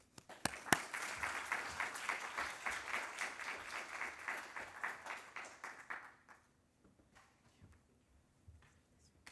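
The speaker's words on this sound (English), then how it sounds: "So please join me in welcoming Agustín with a round of applause" Audience applause greets a lecturer at a formal economics lecture in a hall, steady clapping for about six seconds that then fades to scattered claps and quiet room noise.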